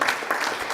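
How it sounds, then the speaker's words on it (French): Brief burst of audience applause for a startup pitch at an awards event, a steady wash of clapping lasting under a second with no voices over it. "on peut l'applaudir"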